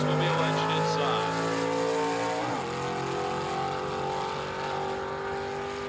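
A 1984 Oldsmobile Cutlass Super Stock drag car with a 408 cubic inch Oldsmobile engine roars at the Pomona World Finals, a loud sustained high-revving engine drone whose pitch shifts and dips briefly mid-run.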